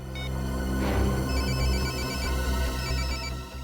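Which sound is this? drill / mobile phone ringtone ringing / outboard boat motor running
mobile phone ringtone ringing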